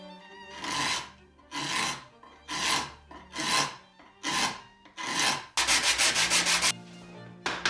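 Card scraper drawn repeatedly across a wooden tool box panel, six or seven steady rasping strokes in a slow back-and-forth rhythm, close and alone, ending in a quicker chattering pass.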